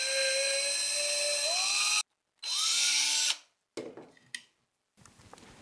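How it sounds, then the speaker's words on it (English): Power drill with a 9/64 inch bit boring holes through metal washers, loud whining bursts that rise in pitch, a short pause, a second run, then scattered clicks and handling noise. "Next, drill 2 holes in the washers."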